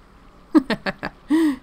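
A chicken clucking nearby during lawn mowing and yard work, a quick run of four loud, short clucks followed by a longer drawn-out squawk, close and clear with no talk over it.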